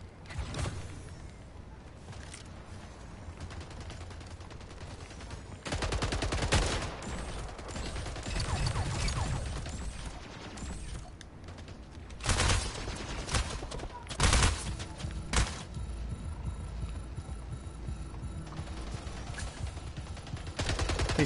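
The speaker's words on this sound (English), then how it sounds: "He's shooting up that top." Repeated bursts of gunfire from a team shooter video game, bursts clustering around several loud peaks over a steady bed of game sound, with players talking over the action.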